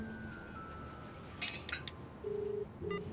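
A quiet phone line plays a short electronic tone, then several brief clinking beeps and a pair of flat steady tones near the end, like an outgoing call ringing or turning busy.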